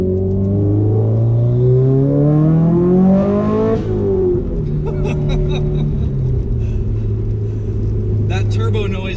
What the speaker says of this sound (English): That turbo noise does not get old. That's a really big turbo that we've got in this thing